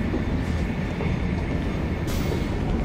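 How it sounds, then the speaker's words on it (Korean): A train ride in the game Yakuza Kiwami 2 gives a loud, steady rumble of rolling rail cars with a constant mechanical drone, close and unbroken, with no voices. "오, 열차로 간다."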